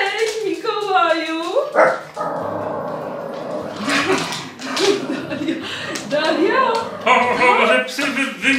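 Several dogs bark and yip at close range inside a home during a Christmas visit from Santa Claus, their sharp bursts mixed with excited talk from people nearby.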